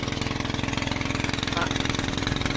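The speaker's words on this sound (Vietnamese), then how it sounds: "Cái này cái hệ thống này đặc biệt là đang chạy bằng máy nổ." A small combustion engine runs an automatic pesticide spraying system in a durian orchard, chugging in a fast, even rhythmic pulse, loud and close, with a voice faintly underneath.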